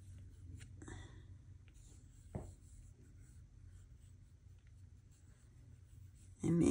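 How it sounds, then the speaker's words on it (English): A pencil makes loose marks on paper, with soft, sparse scratches and light strokes, quiet and close, with a brief rustle at the end. "You can practice loosely holding your pencil."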